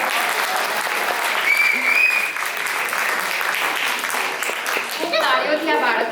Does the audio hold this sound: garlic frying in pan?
no